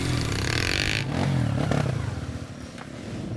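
A motorcycle labours up a rocky, muddy trail, its engine droning loud and close with uneven revving, and clattering and scraping from the rough ground.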